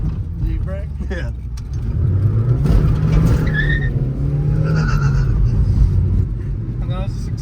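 A Toyota Tercel with a blown radiator patched with Flex Seal braking hard, a steady close engine and road rumble with brief tire squeals cutting in, as people talk over it.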